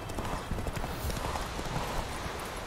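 Horse hooves clip-clop steadily in The Witcher 3, a continuous rhythmic trot with occasional faint whinny-like traces, heard alone without talk.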